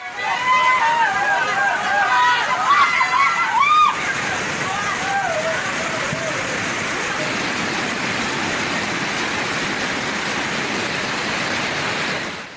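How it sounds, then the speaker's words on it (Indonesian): A swollen river in flash flood near Bogor rushes with a loud, steady roar of churning water, and a voice speaks over the opening seconds before the torrent continues alone. "Debit air sungai meningkat tajam."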